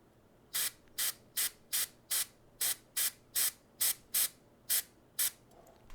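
Short bursts of airbrush paint sprayed onto a miniature model, about a dozen sharp hissing puffs in a quick, fairly even rhythm, close and clear against near silence.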